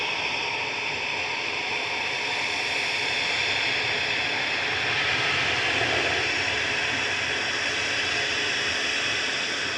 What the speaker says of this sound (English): Touching down on 23 right is Aer Lingus Flight 9, Aer Lingus UK Flight 930 from Bridgetown.